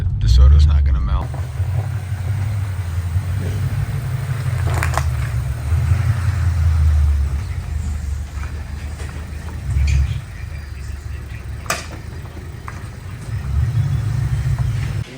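A Budget Coyote V8-swapped DeSoto car rumbles steadily on its first test drive in poor weather, a low continuous engine drone with a few swells, while people talk over it.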